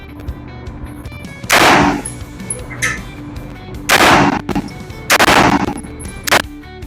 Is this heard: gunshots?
yes